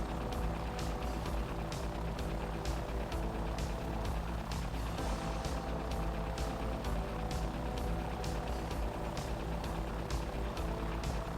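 A Bell 412 Griffin helicopter on a New Zealand chopper tour, its rotor thumping in a steady, fast rhythm over a loud, continuous engine roar that fills the whole stretch.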